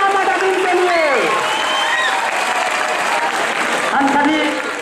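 Audience applause fills a prize distribution function for a 2018 general knowledge competition, a steady loud wash of clapping with voices and tonal sounds running over it throughout.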